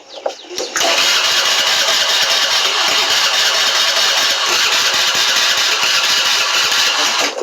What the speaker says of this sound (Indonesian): Ya wis tak manahi motor sih.